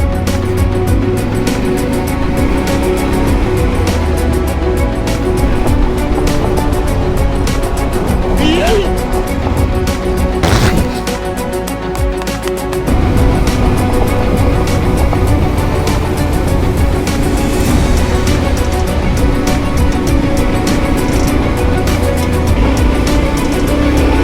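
A Yamaha Ténéré World Raid motorcycle rides a dirt track between Saint-Paul and Pignan, its engine drone and wind rumble steady and loud throughout, with a rider talking over it.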